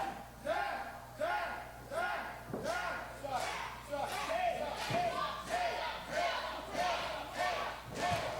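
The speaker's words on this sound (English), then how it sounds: "Both calling for Zack James and Nick Valentino." Wrestling crowd split in chanting for Zack James and Nick Valentino, rhythmic chant bursts repeating about twice a second, fairly distant and faint under an arena echo.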